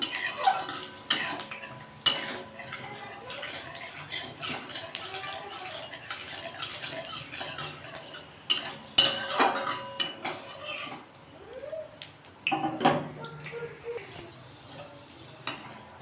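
Dry red chillies and panch phoron tempering stirred in hot oil in a pan for an okra dish, with irregular close metallic clinks and scrapes of a spatula against the pan and occasional faint sizzle.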